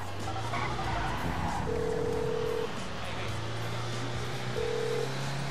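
A phone is dialed in Grand Theft Auto V, with a few clear steady tones rising over a loud bed of rumbling in-game car and street noise.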